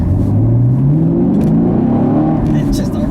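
A 2017 Chevrolet Camaro SS 1LE with a manual gearbox accelerates hard on back roads, its V8 revving up in a rising, loud roar close by, with a person talking over it.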